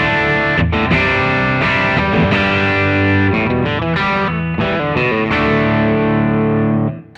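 An electric guitar on its bridge pickup, played through a Nobels ODR Mini 2 overdrive pedal with all controls at 12, rings out in thick, distorted chords that change every beat or so, then fade at the end.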